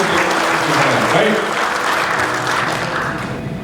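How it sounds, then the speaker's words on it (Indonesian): Dense, loud applause from an audience at a bank's motivational gathering fills the moment, continuous and slowly tapering, with a voice faintly present beneath it. "Ya, tepuk tangan dulu."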